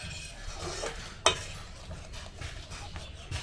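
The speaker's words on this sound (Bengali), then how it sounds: "এখানে দেখো টমেটোটা ফুটছে" Homemade tomato sauce simmers in a pan over a medium flame, giving a soft steady bubbling sizzle with one sharp clink of a utensil partway through and faint scraping.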